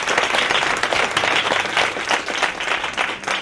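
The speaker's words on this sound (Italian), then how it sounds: "Grazie, applauso." A live audience bursts into sustained applause, dense overlapping clapping at steady loudness for a few seconds with faint crowd murmur underneath.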